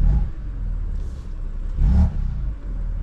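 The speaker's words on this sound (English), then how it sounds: "Let you get a little sound of the exhaust." A stock BMW M4 Competition with a six-speed manual idles and blips its exhaust with the valves closed, giving a deep, muffled rumble with two short revs swelling up close.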